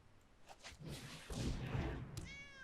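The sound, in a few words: cat meow effect of Scythe Cat card, Magic: The Gathering video game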